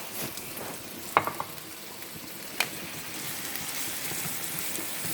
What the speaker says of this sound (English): Just let this simmer a little bit